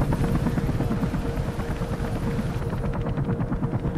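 Helicopter in a Mirror's Edge video game cutscene, a loud, steady rotor drone with rapid blade chop running throughout and no voices over it.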